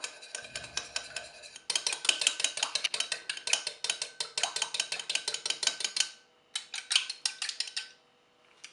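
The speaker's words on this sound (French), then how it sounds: "On mélange bien" Rapid metal clinking of a utensil stirring a vinegar dressing in a bowl for a fennel salad, close and steady, with a brief pause before a final burst of scraping.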